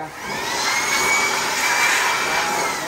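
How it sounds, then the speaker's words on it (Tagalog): A blower roars steadily and loudly while drying a freshly soaped and washed motorcycle, a continuous rushing airflow that holds almost unchanged for the whole stretch with no talking. "Ngayon, gagamitan natin ng blower para matuyo bago natin i-wax."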